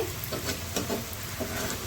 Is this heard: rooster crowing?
no